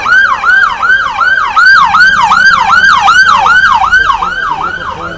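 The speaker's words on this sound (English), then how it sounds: "The ambulance." An ambulance siren wails loud and close, passing a street protest outside a hotel in Epping, its rapid rising-and-falling yelp repeating steadily over faint traffic rumble.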